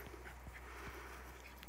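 Miniature schnauzer puppies from an indoor pack make faint, soft whimpers and small yips, a few short sounds spread over a quiet moment.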